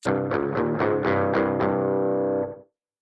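Electric guitar through a Vox ToneLab EX amp simulator on a metal distortion setting, a series of quick heavily distorted picked notes followed by a sustained saturated chord that cuts off abruptly, loud and close.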